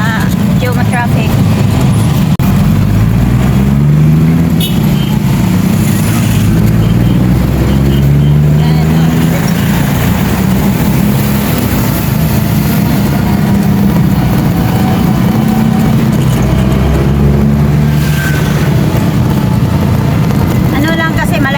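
Midday road traffic, a loud, continuous engine drone with shifting pitch from passing buses, cars and trucks, heard close by throughout.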